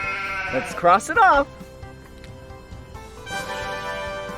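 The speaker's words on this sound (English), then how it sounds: "it's a sheep" A sheep bleats twice in quick wavering calls, loud and close, with an adult and someone talking around it in a playful toy-and-animal game setting.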